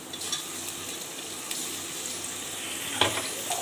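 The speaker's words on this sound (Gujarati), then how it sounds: "હવે એમાં નાખી દઈશું ટમેટા" Tomatoes dropped into a pan of onions frying with red chilli, cloves, cumin and asafoetida give a steady broadband sizzle with a brief sharper crackle near the end, close and fairly quiet, with no talking.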